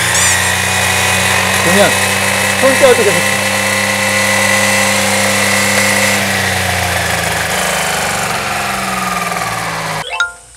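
Battery-powered electric brush cutter running at a steady high-pitched whine with a constant hum, loud and close. Someone speaks briefly over it, and it cuts off abruptly near the end.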